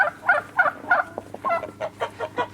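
Chickens in a laying area cluck in a quick series of short, nearby calls, some sharper and higher, with a quiet barnyard hum underneath.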